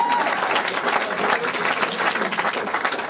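Audience applause at a comedy show in Darmstadt, a dense, steady clatter of many hands clapping for about three seconds with no voices over it.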